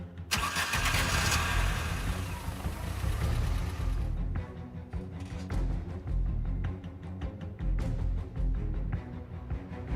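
A car engine in a horror video game cranks and catches with a burst of noise, then settles into a rumbling idle with occasional revs.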